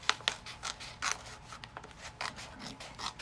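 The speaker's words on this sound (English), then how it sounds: "I'm just cutting along where I decided with these little bitty scissors," Little scissors snip through paper along a grid in a series of quick, close, crisp cuts, with irregular rhythm and no talking.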